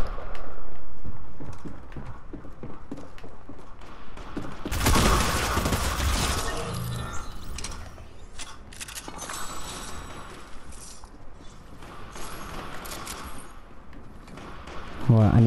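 Gunfire bursts and footsteps in an online shooting video game, with a loud burst of shots partway through and steady in-game action and effects running throughout.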